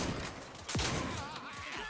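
Shotgun blasts in a sci-fi video game, a sharp boom with a falling whine, set against dense game ambience and scattered weapon noise.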